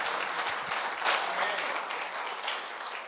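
Church congregation applauding together during a Sunday worship service, a steady, dense wash of many hands clapping at moderate distance, continuous for the whole stretch with no talk over it.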